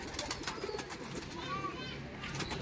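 Madras breed pigeons being caught and put back into a cage, with faint cooing and rustling under a busy backdrop of people and children talking.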